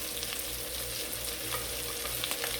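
Jerk shrimp fry in a pan with a soft, even sizzle and crackle that holds steady and fairly quiet for a few seconds, with no talking.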